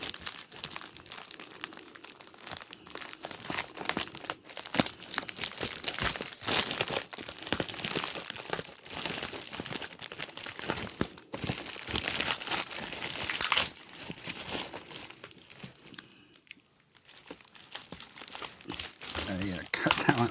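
Paper packing material from a WWF Pakistan wrestling belt bought on eBay crinkles and crushes steadily by hand at close range, in dense continuous rustling bursts that briefly pause near the end.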